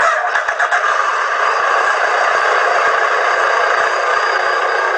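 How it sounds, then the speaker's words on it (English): A motorbike powers up after RFID authentication, giving a loud, steady broadband rush that holds evenly for about five seconds, with faint clicks and a brief pulsing at the start. "so when I authenticate, the bike powers up"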